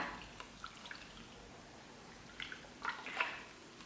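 A homemade liquid hand soap mixture is stirred quietly, giving faint wet squishing and dripping sounds that grow a little busier toward the end.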